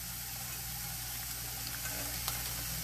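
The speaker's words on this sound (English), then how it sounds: "it has a nice sizzle, so that is good" Chicken and broccoli quiche ingredients sizzling in a hot pan, a steady, even frying hiss that holds close and continuous throughout with only slight crackles.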